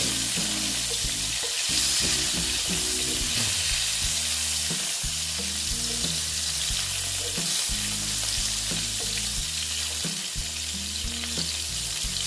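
Slices of pointed gourd (potol) fry gently in hot oil, giving a steady, close hiss and crackle that runs without a break under a low backing tune.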